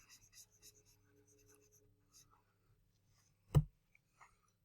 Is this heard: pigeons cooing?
no